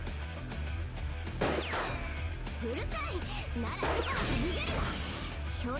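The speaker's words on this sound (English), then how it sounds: "The gunshots echo even louder." Gunshots from the visual novel game Fate/stay night Remastered: two loud, echoing crashing blasts about two and a half seconds apart, standing out over steady game music and voices.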